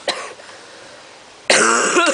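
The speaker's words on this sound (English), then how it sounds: "Get rid of this cough." A short cough is followed by a longer, harsh burst of coughing and throat clearing, close and loud.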